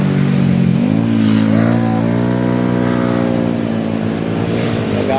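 A small scooter engine hums steadily nearby, its pitch rising as it revs up and then holding a buzzing drone.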